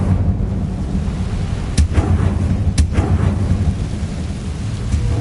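Incendio fire spell cast in Hogwarts Legacy, sounding as two sharp, loud whooshing bursts over a dense, rumbling game ambience with no talk.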